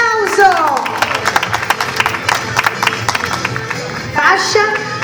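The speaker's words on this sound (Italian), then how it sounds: "Alessia Alberti, un grande applauso" Clapping from a crowd at a regional beauty pageant final as the winner is named, a steady patter of many hands that swells again near the end, with a voice speaking over it.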